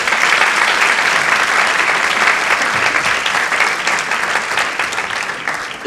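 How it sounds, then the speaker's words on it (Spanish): Audience applause at a celebration of the International Day of Indigenous Peoples, honoring Quechua Indigenous leader Tarsila Rivera Cea; a steady, dense round of clapping from a sizable crowd, sustained throughout and easing slightly toward the end. "Pido un aplauso para ella, por favor."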